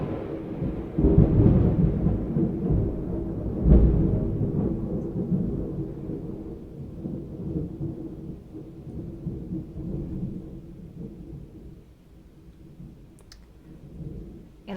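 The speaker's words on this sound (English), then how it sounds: "We do have some really major thunderstorms where I'm recording today." Heavy thunderstorm thunder rolls outside a home recording space, a deep rumbling boom swelling early then slowly fading over many seconds, with a faint crackle near the end.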